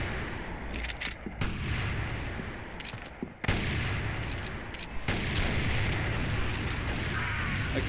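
Sniper rifle gunfire in a first-person shooter game, several sharp loud cracks spaced irregularly across the stretch, each followed by a brief rumble over steady background game noise, no talk.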